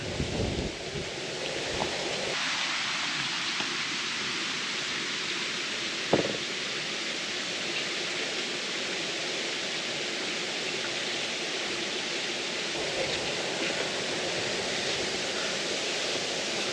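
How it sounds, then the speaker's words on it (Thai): A waterfall at a reservoir in Kanchanaburi roars as a dense, continuous broadband rush, steady and loud throughout with no voices, apart from a brief thump near the six-second mark. "นี่ครับเสียงน้ำตก"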